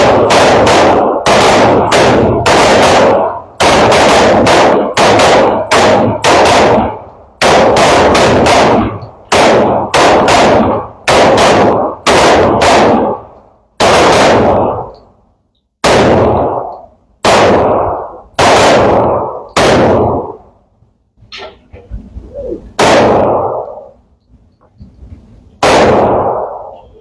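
Shooters open fire on targets with handguns at a new firearms training range during a ribbon-cutting event, six rounds each: loud, sharp shots crack out in dense rapid volleys, then thin to scattered single reports spaced a second or two apart.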